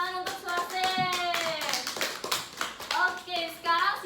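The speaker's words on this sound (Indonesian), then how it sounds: "Baik, tepuk tangan untuk Suarse." Children in an elementary school classroom clap their hands in brief uneven bursts while a voice speaks over them, her talk running through most of the moment.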